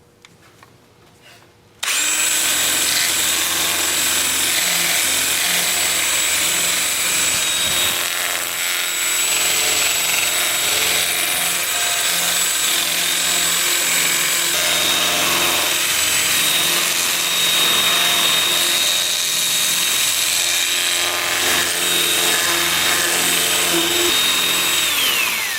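Steady high-pitched whirring hum of a spinning lathe with a sanding abrasive rubbing against a turned wooden root ball, loud and continuous after a brief quiet start.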